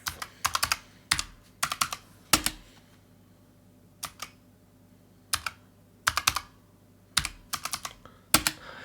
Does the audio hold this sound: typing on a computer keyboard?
yes